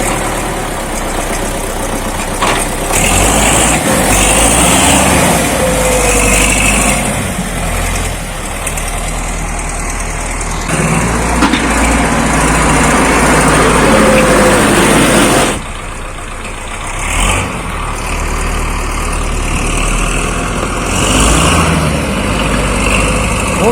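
A heavy diesel MTZ-82.1 tractor engine rumbles loudly and steadily nearby, briefly easing off partway through before resuming its throaty drone.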